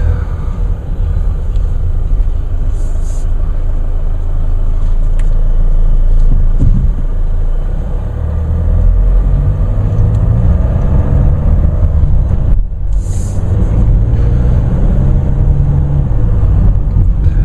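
A 2014 Chevrolet Cruze turbo diesel with a 6-speed automatic drives along, heard from inside as a loud, steady low rumble of engine and road noise with a brief swell partway through.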